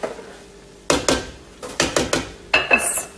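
A cooking pot being covered with its lid while shrimp cook in a royal zubaidi fish and shrimp dish, heard as a handful of close, sharp metallic clanks and knocks in short bursts, with no talk.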